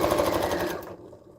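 A sewing machine running a quilt seam, a fast, dense mechanical chatter heard up close that stops abruptly partway through, leaving a faint tail.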